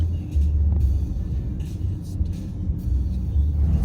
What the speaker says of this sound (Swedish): Vi sitter i taxin hem nu